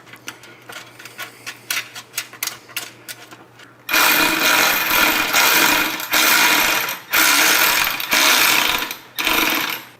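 A 10mm ratcheting wrench turns motorcycle fender bolts with quick runs of light, close clicking, followed by several loud, sustained rushing bursts with brief gaps between them.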